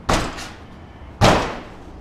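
Two loud impacts strike a broken garage door about a second apart, each a sharp broadband bang followed by a rattling, ringing decay of the heavy door panel, close by and with no speech.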